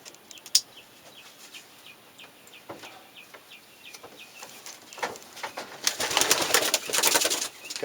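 Racing pigeons in a loft, soft intermittent coos and rustles that swell into louder fluttering and flapping toward the end, fairly close.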